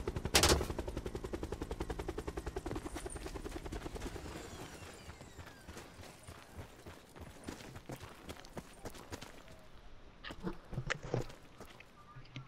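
Rapid gunfire in a team shooter video game, loud bursts at the start giving way to scattered shots and impacts, with a burst of heavier fire near the end and faint voices underneath.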